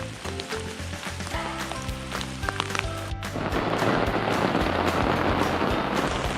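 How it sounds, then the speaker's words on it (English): Rain falls steadily in Algonquin Park on a wet May day by White Trout lake, a dense hiss that thickens into a louder, even wash of drops partway through, with no voices. "The rain's starting to let up a bit."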